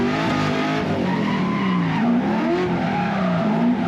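A race car skids and squeals its tires at a Raceland Krško rallycross round, a continuous loud engine roar with wavering tire squeal rising and falling throughout.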